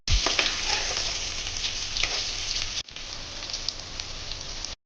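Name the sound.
cut onions stirred and frying for mutton head curry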